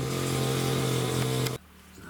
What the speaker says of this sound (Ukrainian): пилка замовкла, слава Богу